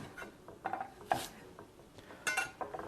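A knife chopping a piece of leek on a cutting board in a home kitchen: a series of quiet, irregular sharp taps and scraping slices, spaced out, close and faint, with no talking.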